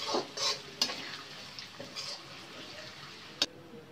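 Small beef pieces frying in a pan with onions and fried onion for haleem, a faint steady sizzle with occasional clinks and stirring scrapes of utensils against the pan.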